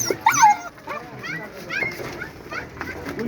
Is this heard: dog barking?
yes